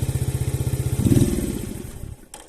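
A Mondial SFC 50 mini motorcycle with a 50cc engine idles in a fast even putter, then the throttle opens into a short rising rev that fades back down, loud and close.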